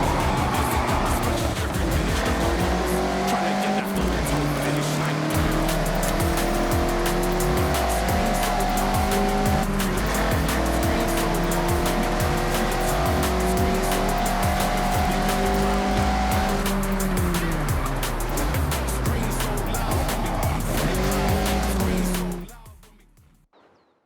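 A Mazda MX-5 drifts through corners in the Forza Horizon 6 racing game, its engine note rising and falling with gear changes while tires squeal steadily underneath, continuous and loud until a sudden fade at the end.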